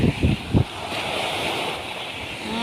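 Rough, storm-driven sea surf washes and roars steadily, with a few low thumps at the start and constant wind buffeting the microphone.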